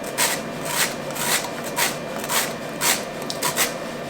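Citrus peel scraped across a sharp kitchen zester: about eight quick, close rasping strokes in a fairly even rhythm over a faint background hiss.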